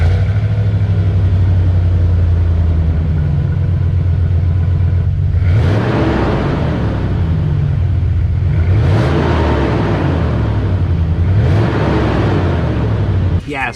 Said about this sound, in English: I'll start up the truck so you can hear the exhaust, obviously before we cut out the muffler